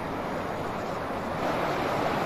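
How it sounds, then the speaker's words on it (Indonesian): A waterfall in a natural forest gives off a constant, dense rush of falling water, fairly close and steady throughout, with no voices. "Terlihat ya, ini ada air terjun."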